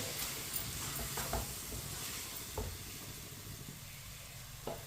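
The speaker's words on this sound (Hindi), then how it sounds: "मीडियम आंच पर इसे 2 मिनट के लिए चम्मच चलाते हुए पका लेंगे।" Masoor dal cooks over medium heat while a spoon stirs it in the pan, a soft steady sizzle broken by occasional scraping knocks of the spoon, fairly quiet with no talking.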